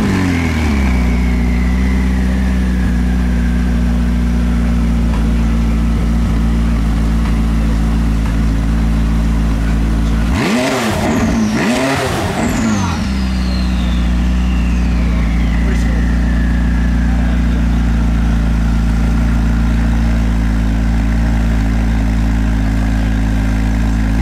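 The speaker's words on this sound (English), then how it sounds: "One of the most obvious changes is the new exhaust system, which also enhances the car's power in addition to its aesthetic and sound." A 2018 McLaren 600LT with its new exhaust system runs with a steady low engine drone and harmonic hum. Around the middle a louder, brief rush of passing noise sweeps through for a couple of seconds, then the drone settles again.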